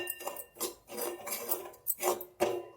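Sajachi poli filling being dry roasted in a pan with no ghee, a run of metal utensil scrapes and clinks against the pan in short uneven bursts, close and moderately loud.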